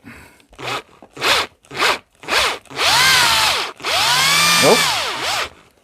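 A power drill, switched off hammer mode, driving a concrete fixing screw: four short whirring bursts followed by two longer runs where the motor pitch rises and dips under load, close and loud.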